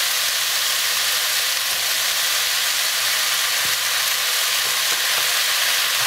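Peppers, beans, onion, corn and kidney beans fry in a little oil in a pan, giving a loud, even, hissing sizzle that runs unbroken throughout, with a couple of soft clicks and no speech.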